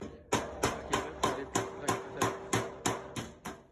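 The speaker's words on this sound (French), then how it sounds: "je pogne mon marteau même" Hammer blows ring on Porsche quarter-panel sheet metal in an auto body shop, eleven sharp metallic strikes in an even rhythm, close and loud with no talk.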